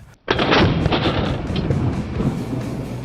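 A DP-27 light machine gun fires a rapid burst outdoors, sharp loud reports in quick succession that then trail off into a long rumbling echo.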